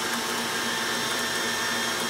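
A food processor whizzing sponge cake mixture, a loud continuous whirring motor roar that holds steady throughout the short burst.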